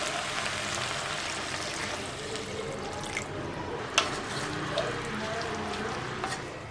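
Water pours steadily into a cooking pan of sautéed greens with a soft, continuous rushing hiss, broken by a few faint drips and light clicks.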